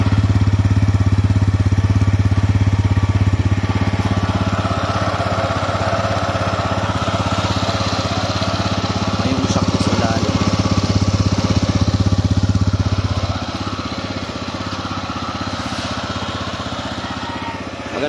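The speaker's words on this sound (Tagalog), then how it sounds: "Maganda tunog ng kambutso nito." Kymco KRV 180 motorcycle exhaust: a steady, close, low idling burble that holds evenly for most of the stretch, then drops slightly quieter near the end.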